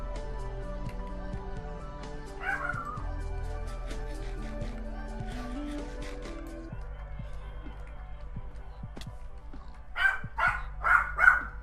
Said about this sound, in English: That's my dog barking away.